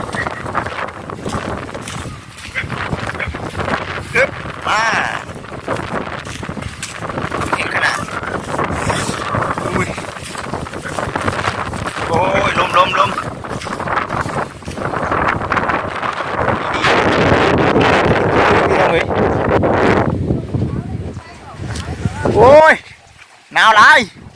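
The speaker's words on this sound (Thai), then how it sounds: "คือลมแท้ดิ" Strong dry wind gusts hard against the microphone outdoors, a loud continuous buffeting roar that rises and falls, with voices talking over it.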